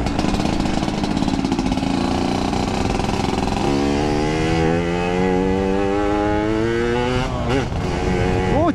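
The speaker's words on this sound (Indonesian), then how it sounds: "Ya sekalian manasin motor aja sih, karena nggak pernah dipakai." A Yamaha RX King two-stroke motorcycle engine runs loud and close throughout while being warmed up, its steady drone rising in pitch midway as the revs climb, with a brief wobble near the end.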